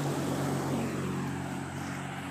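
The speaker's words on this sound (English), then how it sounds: "here comes a mail truck" A mail truck passes close by on a residential street, a steady loud engine drone with rumbling low tones holding through the short stretch.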